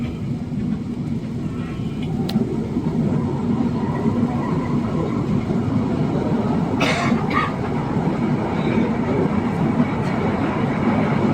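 Aboard a moving LRT1 light rail train in Manila, a steady loud rumble and clatter fills the car, broken by a couple of brief high squeals from the wheels or brakes.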